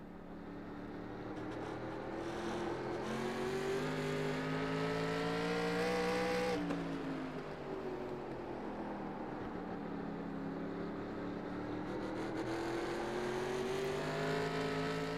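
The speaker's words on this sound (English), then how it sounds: "he's kind of like blipping the throttle a little bit when he's coming off the corner" A race car in an iRacing sim race at New Smyrna, its exhaust droning steadily as the driver blips the throttle coming off a corner, the pitch swelling, dropping sharply and climbing again, with no talk.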